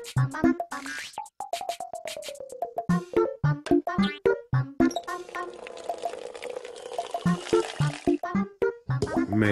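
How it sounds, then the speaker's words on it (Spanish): A cartoon watering can is filled from a nearly dried-up tap: a short, hissing, splashy pour effect in the middle, surrounded by bouncy musical tones and animated character voices. "Pero por lo menos has podido llenar tu regadera"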